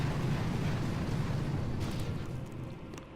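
Artillery fire in the mobile strategy game Boom Beach: a sustained heavy rumbling blast that fills the moment with low booming energy, then slowly fades, with no talking.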